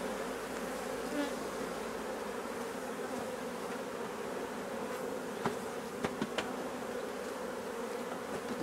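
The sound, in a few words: honeybees buzzing around an open beehive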